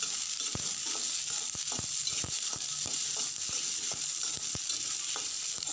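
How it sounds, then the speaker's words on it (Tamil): Onions and curry leaves sauté in a pan for a black chana gravy, with a steady frying hiss broken by regular taps of a spatula against the pan. "இது ஒரு 3-4 நிமிஷம் வெங்காயத்தை நல்லா வதக்குங்க"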